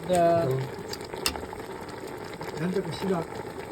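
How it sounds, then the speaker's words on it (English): Eggplant goes into a pot of Kare Kare cooked from scratch, giving a steady close sizzle and bubbling with light clatter from utensils, while people talk faintly in the background. "Eggplant is being added."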